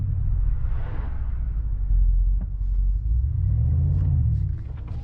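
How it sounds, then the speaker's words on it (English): A 2025 Mercedes-AMG G63 SUV pulls away in comfort mode with a loud, steady low engine rumble close by, holding a deep drone throughout with a slight swell near the end. "When I start to move, it has a really loud rumble"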